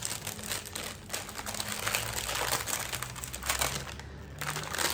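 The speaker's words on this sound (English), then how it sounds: "Today's lots of rustling." Paper wrapping being opened and handled, a steady crinkling and rustling that runs close and fairly loud through the whole stretch with no talk over it.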